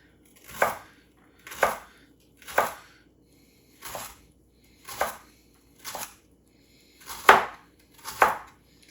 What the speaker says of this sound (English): I've just got kind of like little carrot sticks, and we will just go from there and chop those kind of small